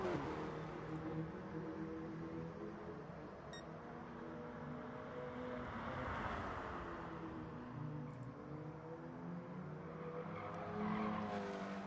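Race cars circle a track in the Gran Turismo Sport racing game, with continuous engine drone and shifting pitch, tire squeal and a car passing by, moderately loud with no talk.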